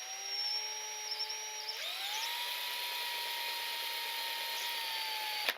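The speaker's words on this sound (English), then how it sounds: "we're gonna be drilling the plants anyway." A power drill whines steadily at close range, its pitch jumping higher partway through as it speeds up, then cutting off abruptly.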